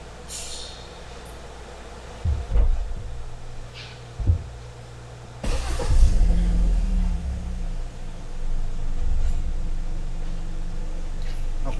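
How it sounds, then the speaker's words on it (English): Hyundai Santa Fe engine being started: a couple of low thumps and clunks, then the engine catches and settles into a steady low idle, close and moderately loud with no talk. "So let me start the vehicle first."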